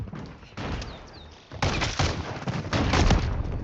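Rapid bursts of video game gunfire crackle close and loud, starting with scattered shots and building into dense, sustained volleys in a military objective-capture match.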